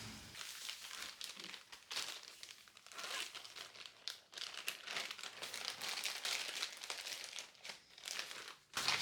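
Active dry yeast is poured into a plastic freezer bag in a kitchen, giving a close, continuous crinkling and rustling of the bag with small bursts and shifts throughout.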